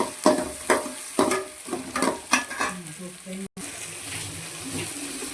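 Onions frying in coconut oil for a sardine masala fry, with repeated sharp stirring scrapes and clatters over a crackling sizzle, then a steadier hiss of frying after a brief dropout.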